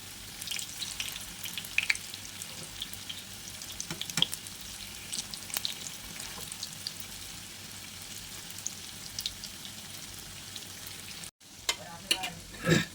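Balushahi sweets fry and puff up in a small pan of hot oil, giving a continuous close sizzle scattered with sharp crackles and pops.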